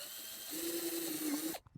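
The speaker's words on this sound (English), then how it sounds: "let's go ahead and drill us 2 holes" A power drill boring holes into scrap wood for a DIY garden bench, a steady whirring drone that rises about half a second in, holds for roughly a second, then cuts off abruptly into near silence.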